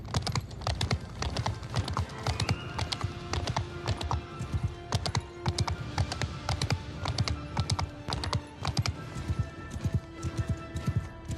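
A horse's hooves clip-clop in a fast, continuous trotting rhythm in the Old World mod video game, close and crisp, with faint, sparse game tones underneath.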